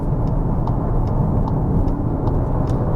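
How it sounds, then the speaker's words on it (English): A 2025 CUPRA Terramar VZ First Edition on 20-inch wheels with chunky tyres accelerates at full throttle, its engine a loud, steady rumble blended with road and wind noise, with no talking. "You can hear that engine kick in as I floor it."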